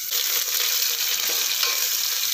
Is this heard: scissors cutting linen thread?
no